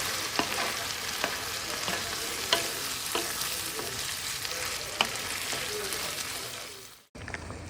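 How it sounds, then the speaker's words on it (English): Soft, continuous bubbling and sizzling from beans boiling in a pan, with a few faint scraping stirs, running steadily before cutting off near the end. "now they are boiling"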